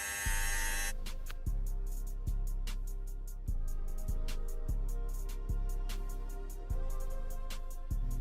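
Electric hair clippers fitted with a 3mm guard buzz steadily, close by, with short repeated surges and clicks as they flick through hair in brief passes, no voices.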